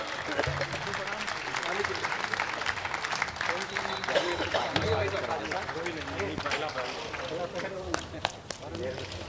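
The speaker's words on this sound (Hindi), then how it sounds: "उनके सम्मान में आप जोरदार तालियां आप बजाएं।" Applause at a Hindi poetry gathering (kavi sammelan) honouring Dr. Surendra Dubey: dense, steady clapping from a seated audience throughout, mixed with crowd murmur and voices, fairly loud and continuous.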